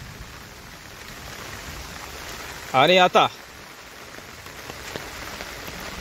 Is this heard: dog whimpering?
no